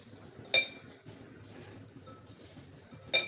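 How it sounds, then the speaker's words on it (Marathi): Kalonji, mustard seeds and mustard dal mixed together in a bowl, a quiet scraping stir with two bright clinks of a spoon against the bowl. "आणि ही कलोंजी मोहरी डाळ हे मिक्स करून घ्यायचे तर सर्व छान मिक्स करून घ्यायचेत"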